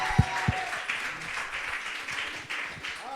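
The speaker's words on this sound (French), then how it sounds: "Est-ce qu'on peut tous acclamer le Seigneur ensemble?" A church congregation at a Sunday worship service applauds together in a sustained, steady clatter of hands, with a couple of low thumps near the start and no talk over it.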